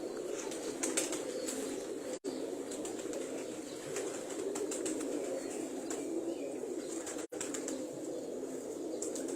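Tournament racing pigeons coo softly and flap their wings in a loft, a steady low murmur of cooing with scattered bursts of wingbeats throughout.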